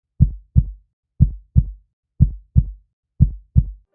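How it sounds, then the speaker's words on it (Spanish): A steady, normal heartbeat sound effect: four evenly spaced lub-dub pairs of low, soft thumps, close and clear against silence, with no talking. "Imagina el latido normal de tu corazón."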